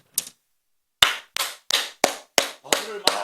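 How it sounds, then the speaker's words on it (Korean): Scattered hand claps from a played church prayer-meeting video, one sharp clap followed after a pause by a run of about seven loud, evenly spaced claps, close and distinct, with no voices between them. "박수를 많이 치는데요."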